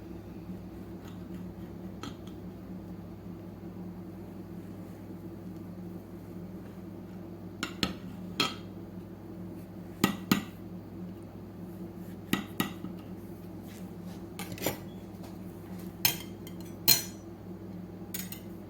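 A knife slicing through a freshly baked, cooled zebra cake in a home kitchen, giving sharp clinks and taps of metal on a plate or pan that come in scattered bursts over a steady low hum.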